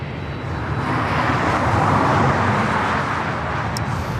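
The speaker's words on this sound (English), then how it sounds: "Next arrival is Alaska Airlines flight 1143 coming from Portland, a 737 at MAX 9." Alaska Airlines Boeing 737 MAX 9 from Portland arriving at LAX, a broad steady jet roar that swells slightly and then holds, loud and continuous with no talking.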